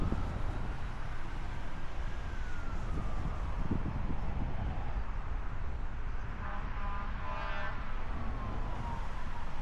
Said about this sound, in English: Ambulance finally made it across the highway.